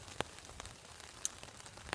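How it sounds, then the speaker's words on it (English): Rain falling on a bushcraft camp, a soft patter with a few sharper nearby drips standing out against a quiet background. "because it's still raining, so I'm going to get packed up"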